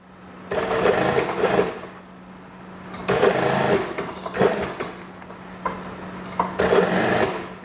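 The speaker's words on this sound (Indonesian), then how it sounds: "Pastikan kalau menjahit jadi ketemu ya dengan sisi satunya." A sewing machine stitches the side seam of an elastic waistband on a junior high school skirt in three loud, close bursts of rapid whirring, with short pauses between runs.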